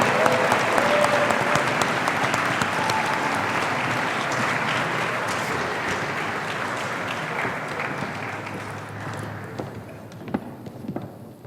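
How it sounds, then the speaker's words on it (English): Audience at a graduation ceremony applauding a singer, dense sustained clapping from a large crowd that slowly fades toward the end with a few last scattered claps. "Can we get a round of applause,"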